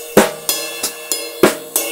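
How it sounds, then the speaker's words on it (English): A close drum kit groove with regular sharp hits, offbeat eighth notes on the cymbal bell and hi-hat over a steady beat, no voices. "eighth notes on the offbeat on the cymbal bell,"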